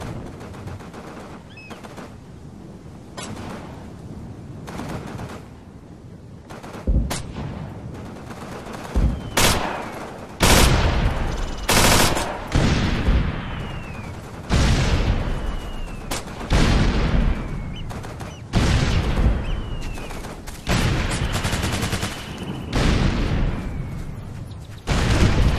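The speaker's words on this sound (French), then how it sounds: "Bombardement pile sur la cible." An artillery barrage in Operation Flashpoint: Dragon Rising on Skira island near the airfield, with heavy booming impacts landing in irregular succession, loud and close, plus scattered gunfire between them.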